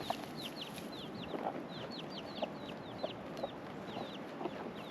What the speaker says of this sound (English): these are my goats and chickens.